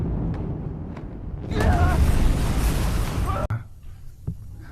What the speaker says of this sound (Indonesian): kecerobohannya memicu reaksi berantai yang menyebabkan semuanya meledak